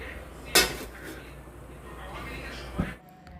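A grill frying pan for steak is handled in a kitchen, giving a sharp metallic clank near the start and a softer knock later, over steady background noise.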